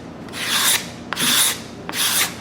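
Sandpaper rasps across a bookmatched wood veneer panel in three long back-and-forth strokes, close and fairly loud, with a faint knock between strokes.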